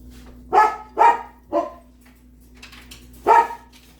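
Dogs barking while playing indoors: three barks in quick succession, a pause, then one more; sharp, close, loud barks with quiet gaps between.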